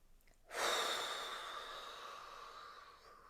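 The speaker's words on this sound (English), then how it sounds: "taking some deep breaths, breathing down into your belly" One long, deep breath drawn down into the belly, starting suddenly and then slowly tapering off as a soft, airy exhale, close and alone with no talking.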